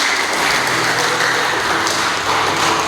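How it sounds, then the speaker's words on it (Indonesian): Audience applause at a village orientation event in Bongkasa, Badung, Bali: a dense, steady wash of many hands clapping together, sustained and fairly loud throughout. "Dan aplaus dulu untuk kita semua."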